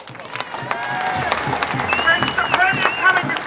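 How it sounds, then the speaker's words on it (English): A crowd at an outdoor rally against an emergency services levy bill applauds and cheers, the clapping building steadily, with scattered whoops and shouts over it. "A big round of applause for Warren Davies."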